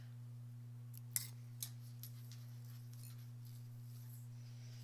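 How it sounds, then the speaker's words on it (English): Scissors snip near a zipper while a pouch made from old quilt blocks is sewn, a few faint, sharp clicks spaced about a second apart over a steady low electrical hum. "All right, let's snip."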